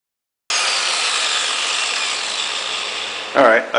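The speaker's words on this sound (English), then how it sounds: "I kind of just wanted to do a little bit of grinding in real time" Angle grinder cutting protruding metal off a rear axle brake bracket on a Chevy 10/12 bolt rear end, a steady loud continuous whine that holds alone for about three seconds, then shifts into a rougher rising tone near the end.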